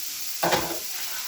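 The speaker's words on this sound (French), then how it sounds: "je fais revenir l'oignon" Chopped onion hits hot olive oil in a pan and sizzles steadily. A brief, louder burst of crackle comes when it lands, then settles into a continuous hiss.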